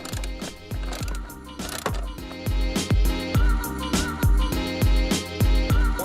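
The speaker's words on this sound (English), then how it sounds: "So just go ahead and get those 2 loose." A ratchet loosens the front seat bolts in a 2015 Subaru WRX, giving a steady run of rapid clicking pawl strokes in short bursts, close up and alone without talk.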